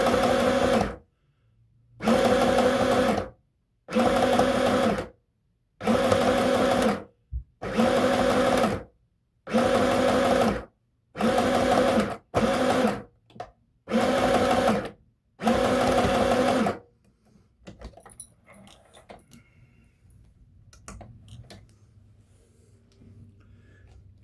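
Sewing machine running a red cotton skirt seam forward then backward: about nine loud, steady bursts of stitching separated by short pauses, followed by quiet handling of fabric near the end.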